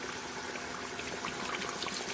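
Water pours steadily into a pot of browned beef for nihari, a continuous splashing trickle heard close up with no talking.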